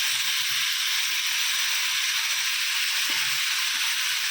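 Egg curry simmering and frying in a pan, giving a constant loud, close sizzle with faint stirring scrapes and clicks underneath, and no talk.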